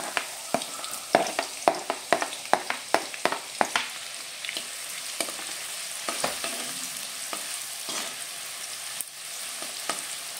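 Finely chopped onion fries in hot oil with a moderate crackling sizzle, sharp clicks from stirring coming thick at first and then thinning out over the sizzle.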